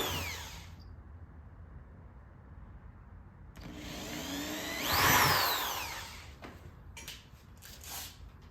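A power drill whines in two bursts, the second rising and falling in pitch as it bites through material, close up, with quiet gaps between, drilling holes in a 2009 Harley-Davidson Police Special for a tour pack rack.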